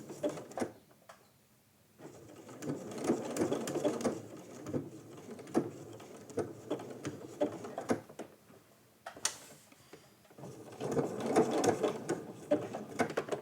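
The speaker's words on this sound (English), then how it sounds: "Now, as I'm sewing, I'm going to just turn it slightly every few stitches." A domestic sewing machine stitches raw edge applique fabric in steady rapid bursts, close and fairly soft, pausing briefly between runs as the fabric is turned.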